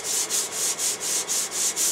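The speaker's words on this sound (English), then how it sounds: "Now I can start with some sandpaper on a pad and just buff it all out." Sandpaper on a pad buffing a lathe part, a close, steady rasping rub that swells and fades in regular back-and-forth strokes about four times a second, with no talking.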